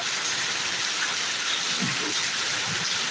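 Heavy rain in Thiruvananthapuram pours down in a dense, steady hiss, loud and close, with a couple of faint low murmurs underneath.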